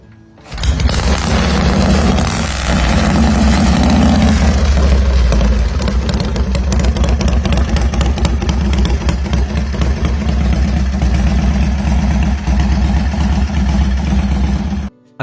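A 1978 Harley-Davidson Superglide motorcycle starts up and runs, its engine catching with a loud burst and settling into a steady, close, throbbing idle with a lumpy low rhythm before cutting off at the end.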